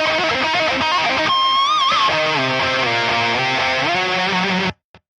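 Distorted lead electric guitar through a Shoeless drive pedal plays a line with bends and vibrato over a sustained chord, then cuts off abruptly with a few short clicks after.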